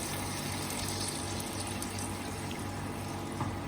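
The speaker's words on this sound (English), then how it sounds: "We're going to deglaze that. So we're going to add our stock," Water poured into a hot pan to deglaze the stuck brown bits for chicken stock, a steady close rushing pour with a faint bubbling sizzle, running alone for the whole stretch.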